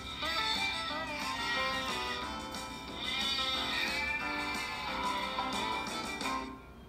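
Sheep bleating repeatedly while held on a scale for weighing, a series of wavering, fairly close calls across the whole stretch with no talk.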